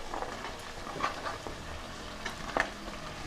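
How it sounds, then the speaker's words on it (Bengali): Beans and carrots stirred in a pan for a spicy chicken stew, with a low sizzle beneath scattered soft clicks and scrapes of a utensil moving through the vegetables. "এবার আমি বিনসটা দিয়ে একটু নাড়াচাড়া করার পর গাজরটা দিয়ে দিলাম।"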